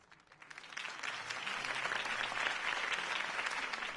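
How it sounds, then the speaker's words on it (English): Crowd applause at a Harvey Dent campaign rally in a PlayStation 4 game rises from scattered claps into a full, steady ovation that holds for several seconds. "If only Mr. Wayne, my campaign's largest backer, could have heard that applause"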